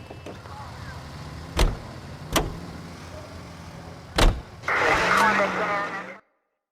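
A car in the game L.A. Noire, with a few sharp thumps like doors shutting followed by an engine starting up and running, close and fairly loud, ending abruptly.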